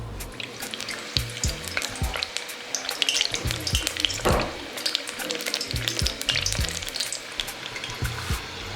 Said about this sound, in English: this has deep fried to a crispy golden brown color